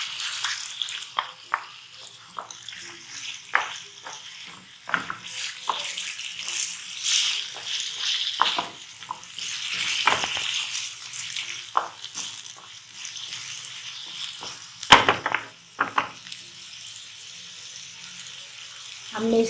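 Minced meat sizzles and crackles in a hot pan while rice kabab is being made, with stirring scrapes and short bursts of frying noise running steadily throughout at close range.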